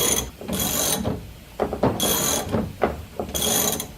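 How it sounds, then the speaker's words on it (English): A spring compressor ratchets down on a lowering spring for a G5 car, making loud bursts of rapid mechanical clicking with short pauses between strokes, close up and without speech. "For mine, we have to use a spring compressor."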